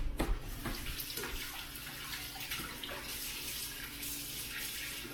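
Tap water runs steadily into a sink for hand washing at a home counter during beer making, a close, continuous splashing hiss with a brief louder gush at the start.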